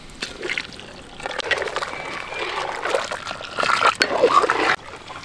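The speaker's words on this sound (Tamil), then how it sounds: "இப்போ நம்ம கரைச்சி வச்ச முடவாட்டுக்கிழங்கு சூப்பு மிக்ஸை ஊற்றிக்கலாம்." Soup mix of mudavattukal (goat leg root) is poured into boiling water in a pot, a continuous splashing, trickling wash for several seconds that stops abruptly near the end.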